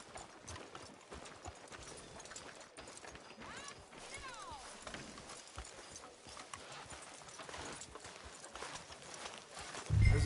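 A horse's hooves clip-clop steadily along a street in the video game Red Dead Redemption II, a continuous rhythmic trot with creaking tack under a soft ambient backdrop, ending with a brief louder thump.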